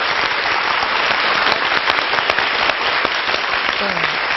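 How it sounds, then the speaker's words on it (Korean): An audience claps continuously after a classical piano performance, a dense, even wash of applause that stays steady throughout. "다시 한번 큰 박수 부탁드립니다"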